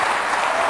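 A French TV studio audience claps in a dense, even burst of applause, close and loud throughout a brief moment.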